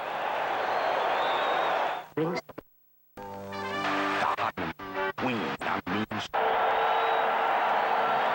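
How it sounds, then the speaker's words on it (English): The crowd at Riverfront Stadium roars for the Cincinnati Bengals defense at a 1984 NFL game against the Seahawks, loud broadband cheering that drops away into a brief gap and choppy talk before swelling again. "Bengal defense has fired up the crowd here at Riverfront Stadium"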